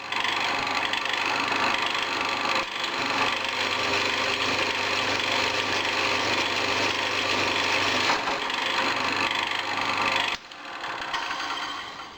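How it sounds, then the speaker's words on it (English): A drill bores steadily through a cast iron disc brake rotor, a continuous grinding whir that holds for about ten seconds, briefly dips, then stops abruptly before a quieter tail. "So I reckon I'm really pushing my luck if I can drill a hole through it."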